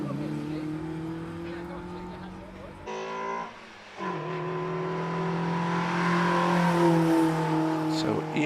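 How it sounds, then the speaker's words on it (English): A Mazda MX-5 1600cc race car launches at the Prescott speed hill climb, its engine revving hard, dipping briefly at a gear change, then pulling away loudly while a commentator talks. "Noor Ali, number 120 in the Mazda Mx-5 1600cc machine, will be first off the line"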